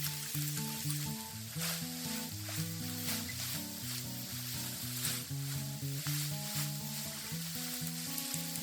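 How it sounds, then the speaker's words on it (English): Paella stir fry with a paprika mixture and scallops sizzling in a pan, a low steady frying hiss with stirring beneath prominent background music for the whole stretch. "Scatter the paprika mixture over our stir fry and mix well."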